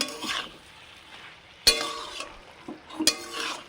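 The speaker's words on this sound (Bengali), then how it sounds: "এরপর ঢাকনাটা উঠিয়ে আর একবার একটু নেড়ে নাও।" Vegetarian cabbage curry with spices being stirred in a pan on a low flame, giving a soft continuous sizzle with scraping strokes and two sharp metallic clanks of the spoon against the pan.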